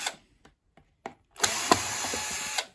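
Screws being removed from a Numatic Henry Micro vacuum cleaner to reach its cable connectors, heard as a few short taps and clicks followed by a sustained whirring power-driver burst that stops abruptly, with no voices.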